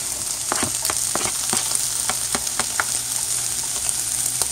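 Onions sizzle in a pan for a kale and smoked salmon breakfast scramble, a constant close hiss broken by sharp pops and crackles scattered throughout, with no one speaking.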